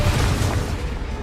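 A spell blast in the Hogwarts Legacy game erupts as a loud, deep, rumbling boom that fills the whole moment, close and heavy, with no speech over it.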